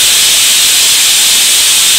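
Loud, steady hiss of steam venting from a pressure cooker as meat cooks, a continuous broadband rush with no pauses across the short stretch.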